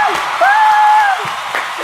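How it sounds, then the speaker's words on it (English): An audience gives a round of applause for a performer in a school stage play, a steady wash of clapping with a sustained high whistle-like tone running across the middle. "Everybody give him a round of applause."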